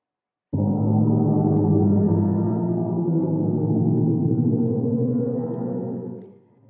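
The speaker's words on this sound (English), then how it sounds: "That's the sound of a black hole." A NASA sonification of a black hole in a galaxy cluster: a low, eerie, droning hum that swells in suddenly, holds for about six seconds with slowly shifting tones, then fades out.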